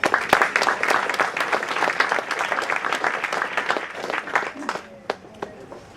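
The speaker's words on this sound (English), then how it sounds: "Please give them a big round of applause." Audience applause at a foundation's annual charity gala, a dense wash of clapping that thins toward the end, with a few last isolated claps standing out.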